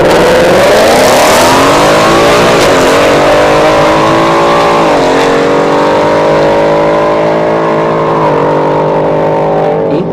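A 5.0 drag race car on slicks launches and accelerates down a dragstrip, its loud engine rising through several revving shifts, close and dominant.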